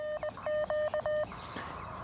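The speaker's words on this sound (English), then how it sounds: "when I need to log a contact, just tap away on my phone" A cell phone keypad gives a quick run of short, clear electronic tones in an uneven rhythm, then falls to quiet background noise.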